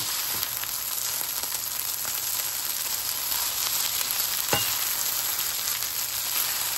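Maggi noodles with egg and mixed vegetables frying in a pan, a steady close sizzle throughout with a few brief clicks of stirring, no voices.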